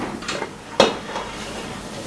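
A metal lid set down on a pot of Kerala fish peera, one sharp clink in the middle of a quiet kitchen, with fainter soft knocks of cookware around it.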